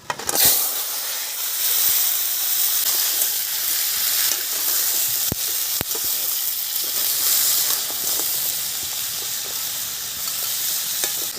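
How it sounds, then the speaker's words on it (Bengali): Sea crabs frying in hot oil in a wok, a loud continuous hissing sizzle that holds steady throughout, with a couple of sharp clicks near the start and middle, close and without any talk. "কড়া গরম হয়ে গেছে, তেল দিয়ে দিচ্ছি কড়াই, কাঁকড়াগুলো ভেজে নেব"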